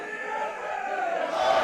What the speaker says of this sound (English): And just listen to the reception Eddie Dennis is getting here.